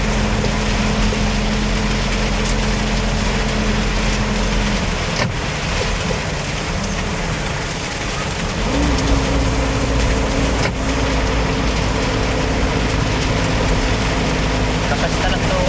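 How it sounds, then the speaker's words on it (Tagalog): Heavy rain hisses steadily against a moving vehicle on a road near an overpass, with a broad, constant wash of noise over a low engine drone that holds throughout. "Lakas ng tulo, ulan."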